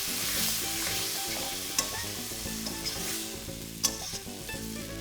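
Ground spice paste mixed with water is poured into hot oil with chili powder for a jackfruit curry and sizzles loudly and steadily while a spoon scrapes and stirs it, with a few sharp clinks, close up and without talk.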